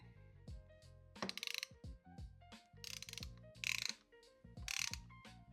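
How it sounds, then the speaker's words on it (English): A set screw is turned into the throttle bore of a Harley-Davidson CV carburetor to cut threads, giving faint, creaky ratcheting clicks and squeaks in several short bursts with pauses between them. "put it in here and kind of cut the threads with the set screw"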